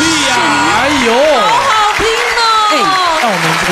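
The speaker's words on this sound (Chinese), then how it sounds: "掌声鼓励呀" Studio audience applause on a Taiwanese TV variety show, a steady wash of clapping heard beneath a loud, lively voice talking over it throughout.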